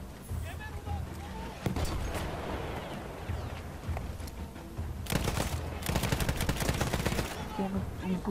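Battlefield 1 combat with a tank and gunfire: loud bursts of rapid machine-gun fire and heavy booming shots come in waves over constant battlefield rumble, close and dense, with no one talking.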